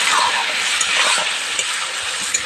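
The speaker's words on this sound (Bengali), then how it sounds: "নাড়াচাড়া দিয়ে দেবো" Beef frying in a pan for kala bhuna is stirred, giving a loud continuous sizzle close by, with light scraping taps of the utensil throughout.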